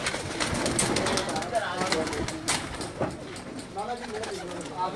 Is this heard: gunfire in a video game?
no